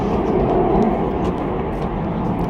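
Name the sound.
airplane taking off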